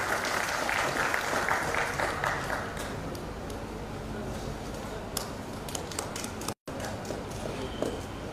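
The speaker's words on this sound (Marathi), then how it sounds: "सर्वांनी टाळ्या वाजवून स्वागत करायचं." An audience at a Lawyer's Day ceremony applauds to welcome a guest with steady, sustained clapping. The clapping continues through the whole stretch, with a brief dropout near the end.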